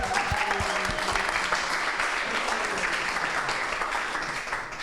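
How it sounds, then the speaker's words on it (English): Dense, steady applause from a meetup audience fills the whole stretch, loud and sustained before tapering slightly at the end, with a few voices mixed into the clapping. "So give him a big applause"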